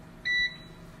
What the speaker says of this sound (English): I like to use the oven timer.